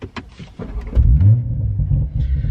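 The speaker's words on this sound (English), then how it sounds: "initial fire up, you do hear still the exhaust burbles and the bangs and the pops and stuff like that" A Toyota A90 Supra fitted with a dual cat-back exhaust fires up inside the cabin, a few light clicks giving way to a loud, deep engine rumble that settles into a steady idle.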